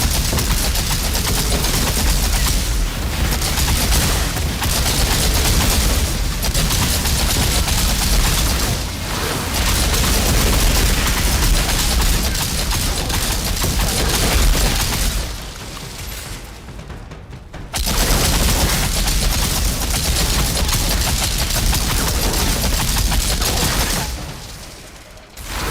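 Volcanic rounds gunfire in the video game Outriders, sustained loud automatic shooting with dense overlapping shots that runs almost continuously and breaks off only briefly twice.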